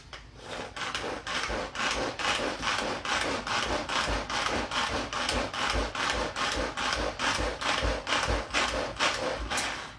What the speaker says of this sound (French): Donc là, c'est parti, on vient hacher le tout.